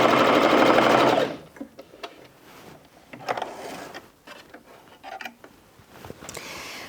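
A Bernette 05 Crafter sewing machine stitches a zigzag in a loud, fast, steady whirring burst for about a second, then stops, followed by light clicks and handling noises nearby.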